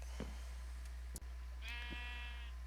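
A sheep in the video game Timbers Realm bleats once in a drawn-out, quavering call near the end, after a few faint clicks and soft game sounds in a quiet scene.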